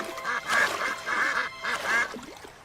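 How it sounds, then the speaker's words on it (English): Several ducks quack repeatedly by a pond in loud, bunched bursts, one short pause between volleys, with no other sound around them. "They quacked and quacked."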